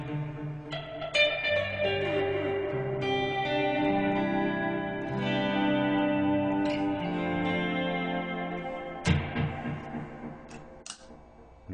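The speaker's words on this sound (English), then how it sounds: "we can mix in a spring reverb." Instrument played through a Strymon El Capistan tape delay pedal with spring reverb mixed in: sustained chords and notes blur into a washy, echoing tail, with a few sharper plucked attacks near the end.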